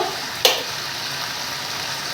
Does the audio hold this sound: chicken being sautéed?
yes